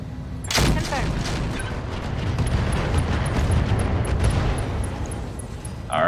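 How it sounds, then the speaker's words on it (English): An MRM ammunition explosion in the Roguetech BattleTech game, a sudden sharp blast followed by a sustained roaring rumble and crackle that fades slightly toward the end. "MRM ammo explosion"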